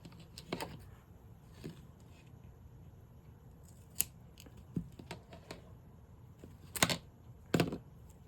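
Scissors cut a piece of tape or fabric at a craft table with a few faint, scattered snips and clicks, including a couple of sharper closes near the end, quiet and close.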